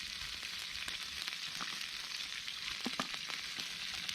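Bacon sizzles and spits steadily in a pan over an outdoor camp stove, a dense continuous frying hiss with scattered sharp crackles, moderately close and with no talking.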